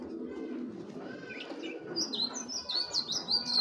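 Racing pigeons coo softly and low at close range, followed by a run of bright, quick chirps from birds nearby.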